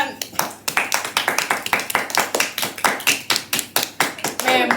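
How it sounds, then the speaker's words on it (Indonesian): An audience at an Indonesian talk show claps hands in a quick, fairly regular rhythm, loud and close, with a few voices calling out near the end. "Beri tepuk tangan."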